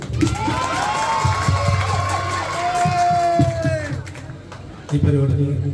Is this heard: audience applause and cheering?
yes